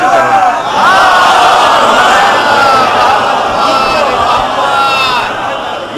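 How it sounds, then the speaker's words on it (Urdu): A large crowd at a majlis in Chota Imam Bara, Lucknow, shouts scattered slogans: a loud, sustained roar of many overlapping voices, with wavering chant-like calls rising through the din. "یہ بکھرے بکھرے نعرے مناسب نہیں ہیں"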